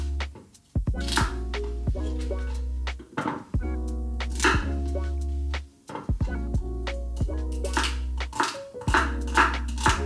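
A knife chops vegetables on a cutting board in a kitchen while pasta sauce is prepared, giving close, loud, irregular thunks in quick bursts with short pauses between them and no voices.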